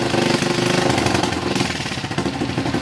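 A flood-damaged motorcycle, long left sitting, runs sluggishly after repair, its engine giving a loud, steady, rapid chugging idle close by, alone without voices.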